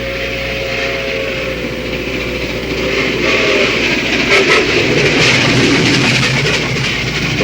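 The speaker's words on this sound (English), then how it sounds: "drawn by a giant steam locomotive." A model train rumbles steadily past, a loud continuous mechanical roar with low hum and hiss, swelling slightly toward the end, no voices; a Lionel Legacy BN 1776 Freedom Train set hauled by a steam locomotive.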